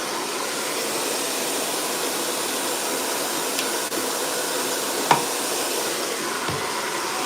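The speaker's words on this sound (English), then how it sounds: "So I'm using the Platinum Turbo Blow Dryer." A Platinum Turbo blow dryer drying hair in a salon gives a steady, loud, broadband whooshing roar that runs unbroken throughout, with a couple of faint knocks and handling clicks.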